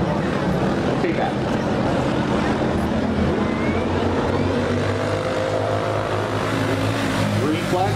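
Junior sprint cars race in a heat at Plaza Park Raceway in Visalia, their engines a continuous loud roar with shifting pitches as the cars circle the dirt track.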